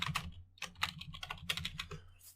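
Brisk typing on a computer keyboard as code is entered, irregular clusters of close, crisp keystrokes with short gaps between bursts and no talking.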